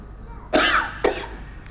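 Two harsh, strained coughs in quick succession, close and loud, sounding forced and choked.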